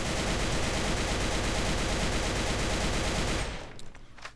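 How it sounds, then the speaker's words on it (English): AK-12 rifle in a video game firing one long, loud, unbroken full-auto burst lasting about three and a half seconds, then cutting off abruptly into faint tails and clicks. "Actually, I'm just going to do full auto with control."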